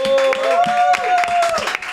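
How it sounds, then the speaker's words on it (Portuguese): A podcast audience applauds guest Cash Luna, with separate, fairly regular claps close by under a sustained tonal sound that stays loud throughout. "um forte aplauso"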